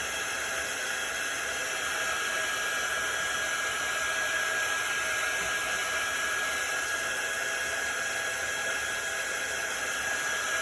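A Chalk Couture quick dry tool blows air in a continuous, even hiss with a faint high whine, close and unbroken for about ten seconds, with no speech.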